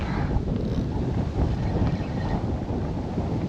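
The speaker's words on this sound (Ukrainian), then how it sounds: "Оце вітрюганіще попер" Strong wind blowing outdoors, a dense, continuous low rumble of gusts buffeting the microphone, steady and fairly loud with no voices.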